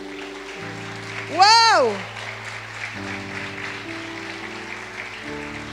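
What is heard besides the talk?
audience applause for Susana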